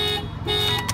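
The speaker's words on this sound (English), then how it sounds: "if somebody opens the door, the alarm will fire off" A Mitsubishi Outlander Sport's alarm blares close by in a loud, steady electronic tone that briefly breaks off and resumes over about a second.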